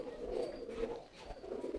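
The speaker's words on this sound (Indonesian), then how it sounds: "Oke, coba tes merpati pos." Homing pigeon cooing in a continuous low, throaty murmur, fairly close and steady with slight swells, no talk over it.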